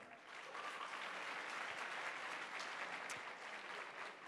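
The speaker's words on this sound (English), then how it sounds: "Let's clap for her." An audience claps steadily at a regional debate award ceremony, a dense, even patter of applause heard at moderate distance and fading slightly toward the end.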